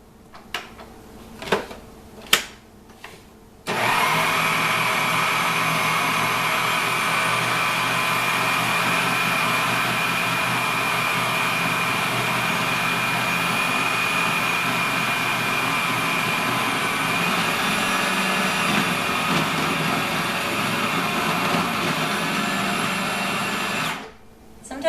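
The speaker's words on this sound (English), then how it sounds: "So as the food processor is going, we're going to just dribble in some cold water" A food processor whirs steadily while blending pie dough as cold water is dribbled in, a loud, continuous close-up motor drone lasting about twenty seconds after a few short knocks at the start, with no talking.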